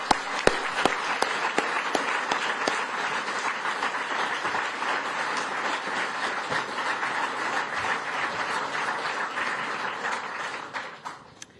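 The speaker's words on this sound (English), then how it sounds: "we'd like to acknowledge it with a round of applause" Dense, sustained applause from a press-conference audience for a Queensberry boxing event fills about eleven seconds at an even level, with a few sharp claps up front, then fades away at the end.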